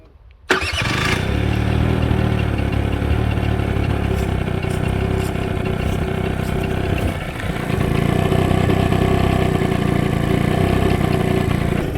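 A motorcycle with its airbox closed and stock setup fires up from cold after a short silence, then settles into a steady, loud, close idle that dips briefly before evening out.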